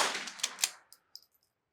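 A single rifle shot cracks out at an NRL22 range stage toward a far target, with a sharp report decaying quickly, followed by a few faint distant metallic pings.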